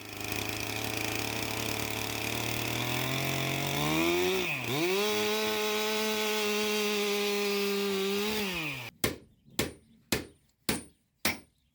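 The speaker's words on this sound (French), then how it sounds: "On commence par couper des billes de bois de 33 cm de long environ, en tenant compte des nœuds." A chainsaw cutting chestnut wood into 33 cm logs, loud steady buzzing that bogs and recovers mid-cut, then stops and is followed by five sharp, evenly spaced knocks.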